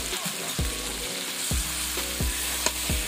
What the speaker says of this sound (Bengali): সবজিগুলোকে আমি ভালো করে কষিয়ে নিচ্ছি